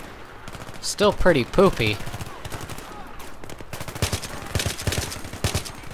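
Rapid bursts of gunfire from a gun in the video game Battlefield 3 ring out loud and close, rattling in quick volleys, while someone talks over and between the shots.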